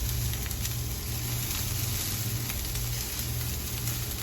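Onions sweating in a pan give a steady, even sizzle and faint crackle that holds at a constant level throughout, with no talking.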